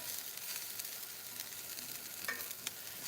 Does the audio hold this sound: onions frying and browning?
yes